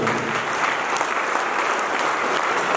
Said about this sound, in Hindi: अभी मन भर के तालियां बजाइए जरा उसको